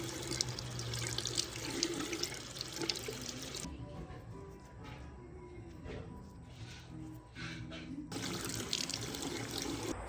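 Block-printed fabric rinsed under a running tap in a sink, the water gushing loudly, briefly dropping to quieter splashing and dripping as the cloth is handled, then flowing full again.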